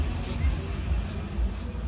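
A can of white spray paint hisses steadily and softly in short repeated spritzes while a Transformers Seeker figure is coated. The hiss is close and even, with no voices.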